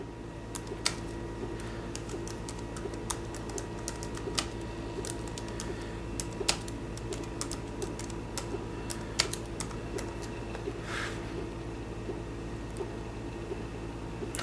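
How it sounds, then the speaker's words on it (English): Someone types an address on a computer keyboard: a quiet, irregular run of key taps over a steady fan-like hum, with no talking. "what I'm going to do is type in my address."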